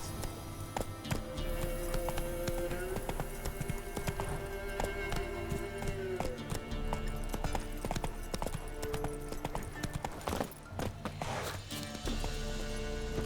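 Roach, the horse in The Witcher 3, gallops in a quick, steady clip-clop of hooves that runs almost the whole way through, fairly quiet and mixed with faint game sounds and a few sharper knocks.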